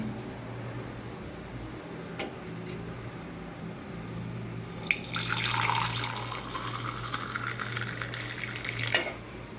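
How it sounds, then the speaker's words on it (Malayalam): Quiet room hum, then milk tea pours into a glass for a second or two, the sound rising in pitch as the glass fills. "ഇനി നമ്മളിതൊരു ഗ്ലാസ്സിലേക്ക് ഒഴിക്കണം."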